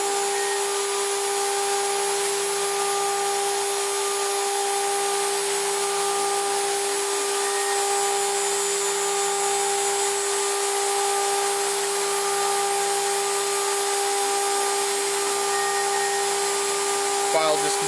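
A 2.2 kW Chinese CNC spindle driven by a Hitachi X200 VFD runs steadily, giving a loud, constant high-pitched whine with a hum beneath it and a faint repeating lower tone, unbroken throughout.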